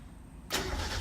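A Mazda Miata engine cranks and catches at once, kicking into a loud, close, steady rumble after a short quiet lead-in.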